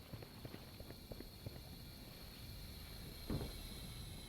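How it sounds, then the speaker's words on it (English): Footsteps in the tactical shooter Valorant, a quiet run of light, rhythmic thuds in the game audio, with one louder step near the end over a steady background hum. "I heard a footstep on me"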